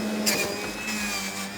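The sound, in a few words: Sage 3X Bluicer juicer running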